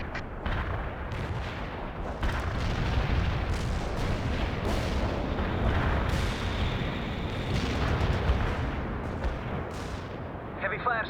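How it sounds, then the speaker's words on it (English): Sustained artillery barrage in the World in Conflict video game, a dense continuous roll of booms and blasts with sharp impacts scattered throughout, loud and unbroken, with faint radio-style voices under the fire. "Artillery engaged"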